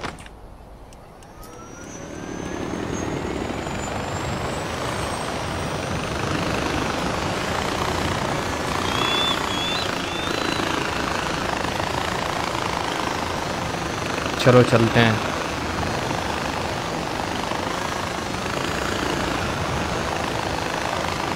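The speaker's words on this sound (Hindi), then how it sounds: "ओहो हेलीकॉप्टर है ये" Helicopter in the video game Far Cry 4, a steady engine and rotor drone running throughout with a brief louder burst midway, heard under a voice speaking.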